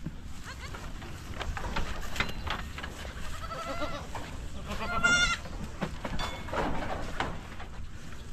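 Goats bleat in a pen while a male goat is tied up, several wavering cries rising over rustling and movement, with a person talking nearby among the shuffling.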